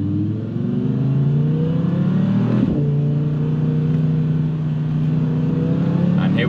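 A new Audi R8 RWD Performance accelerates hard on a closed private road, its engine climbing in pitch, then a sharp gear change near the midpoint before it pulls up again, loud and close.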